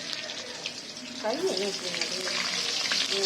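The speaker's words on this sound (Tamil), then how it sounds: "வந்து எண்ணெய் காஞ்சிருச்சுங்க ஃப்ரெண்ட்ஸ். இப்போ பூண்டை போட்டுடலாம்." Garlic dropped into hot oil in a pan, a steady close sizzle and crackle that swells once the garlic goes in, with a voice talking briefly over it.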